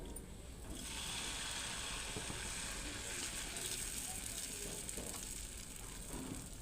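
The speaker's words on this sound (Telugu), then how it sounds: "ఇప్పుడు దోశ వేసుకుందామండి." Dosa batter sizzles on a hot pan after onion and oil, a faint, steady hissing crackle that swells slightly after the first second and holds.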